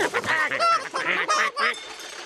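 Cartoon ducks on a farm give loud, honking, nasal calls in quick succession, a close, busy chatter of several birds with no talk.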